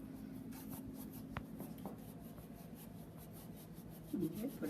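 Hands rub together over a bowl to crumble food for tabbouleh, a soft, continuous dry scratching and rasping up close, fairly faint, with a brief voice near the end.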